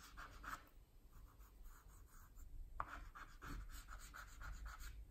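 Black dry pastel scrapes and rubs across paper while shading, making soft rhythmic scratchy strokes repeated in quick bursts, close and quiet.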